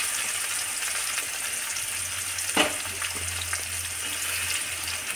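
Green chillies, onions and tomato pieces frying for carrot rice, a continuous even hiss of cooking with one brief clatter near the middle and a low hum underneath.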